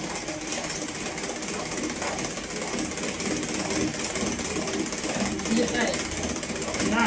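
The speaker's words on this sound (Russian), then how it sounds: "Такой скорости взбивать белков я еще нигде не видел, какой бы миксер не был." Electric mixer whipping egg whites at very high speed, a loud, dense, constant rattling drone that holds steady throughout, with voices talking over it.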